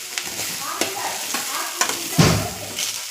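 Mashed sweet potato and carrot halwa stirred slowly in hot ghee, a soft continuous sizzle broken by regular spoon scrapes and taps against the pan, close up with no voices.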